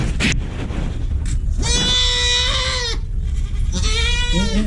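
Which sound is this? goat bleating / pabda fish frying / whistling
goat bleating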